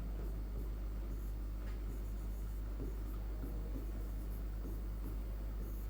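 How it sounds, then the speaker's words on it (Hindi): Writing on a board during a class 10 maths lesson on quadratic equations, a faint scratchy stroking that sits under a steady low electrical hum and room noise. "तो आ जाओ बच्चों यहां लिखते हैं"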